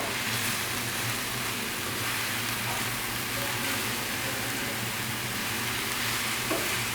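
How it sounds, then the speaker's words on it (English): Mushrooms frying in a pan over medium-high heat, a steady close hiss and sizzle throughout with light crackle and no breaks. "I want the mushrooms to take on just a little bit of colour, not a lot."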